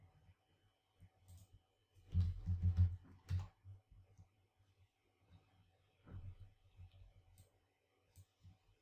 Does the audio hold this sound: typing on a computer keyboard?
yes